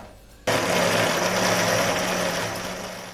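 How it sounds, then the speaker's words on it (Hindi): An electric grinder whirs into life, blending falsa berries, mint, sugar and water, with a sharp start followed by a loud, steady motor roar that slowly eases off. "अब ये पानी डाल के हम इसे ग्राइंड करेंगे।"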